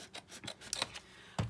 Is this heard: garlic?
no